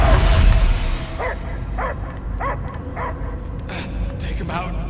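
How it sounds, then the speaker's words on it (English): Barking in the video game Guardians of the Galaxy, a series of short, repeated yips and barks at a steady rhythm, mixed with game sound and voices. "I hear only barking"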